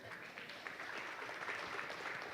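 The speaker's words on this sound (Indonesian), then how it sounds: "Tepuk tangan dulu untuk kita semua." Seated attendees at a DEI summit session in Indonesia clap together in a faint, distant burst of applause that holds evenly for a couple of seconds.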